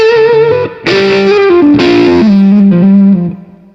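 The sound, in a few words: electric guitar through Komet K.O.D.A. overdrive amplifier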